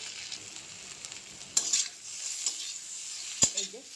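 Spices with vegetables, including eggplant, fry in a pan under a steady close sizzle. A utensil stirs them with a few sharp scrapes and clacks against the pan.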